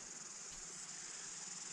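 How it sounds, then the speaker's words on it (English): Cicadas chirp near running water at night by a bay, a steady high-pitched shrill drone over a soft continuous water hiss, no voices. "enjoying the sound of the cicadas and the running water."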